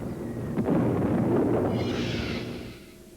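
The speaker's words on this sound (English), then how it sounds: "Much of it will be the noise of our own guns dealing with the raiders" Anti-aircraft guns fire during a wartime air raid: a dull burst opens a sustained, heavy rumbling roar that rolls on for a few seconds before fading away, with no voices.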